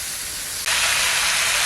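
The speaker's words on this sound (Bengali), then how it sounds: "মাংসটাকে ভালো করে কষে নেব।" Mutton pieces frying hard in a pan for a Bengali mutton curry, a loud steady broadband sizzle that bursts in suddenly and holds continuous, with no talking.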